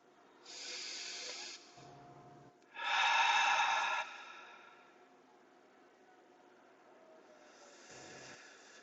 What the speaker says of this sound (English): you breathe in the air.